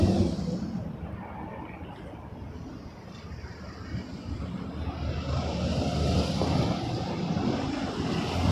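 A WestJet Boeing 737 MAX 8 in swoop livery on its takeoff roll from runway 06 left at Toronto Pearson, a broad distant jet roar that swells steadily louder, with faint wind-like noise and no voices.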